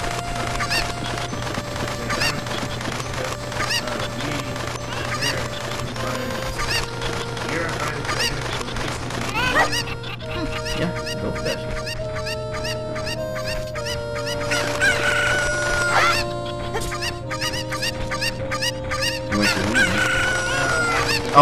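Chickens in Zelda: Ocarina of Time cluck and crow repeatedly over looping game background music, with occasional squawks throughout.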